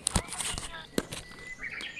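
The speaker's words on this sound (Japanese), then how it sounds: "鳥の声いいですよね。" Birds call and chirp in the morning around a mountain lodge, short bright tweets scattered through soft outdoor ambience with a few nearby thumps and rustles.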